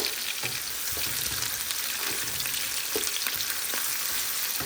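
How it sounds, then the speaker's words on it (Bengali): Small potato pieces sizzle steadily in hot oil in a pan with chickpeas, a loud, continuous close-up crackle broken by occasional stirring scrapes. "আলুটা নরম হওয়া পর্যন্ত আমি এটাকে একটু ভালো করে ভেজে নিব"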